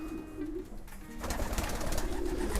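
Domestic racing pigeons of Stichelbaut breeding line cooing in a breeding loft, low throaty coos repeating softly amid rustling and background loft noise.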